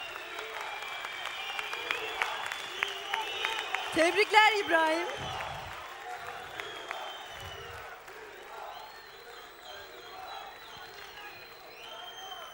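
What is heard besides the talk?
audience applause for İbrahim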